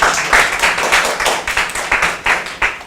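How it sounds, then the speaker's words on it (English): Audience at a university English program event clapping for the instructor, rhythmic close-up hand claps in a steady pattern for a few seconds. "let's give our instructor of the program a big applause, please"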